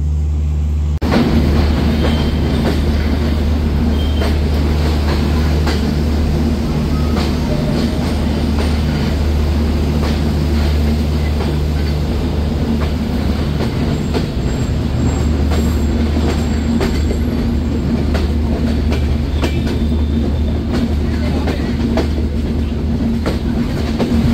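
The Sagardari Express train runs at Noapara railway station with a loud, continuous rumble of carriages, rhythmic wheel clatter and intermittent metallic wheel squeals, close and sustained.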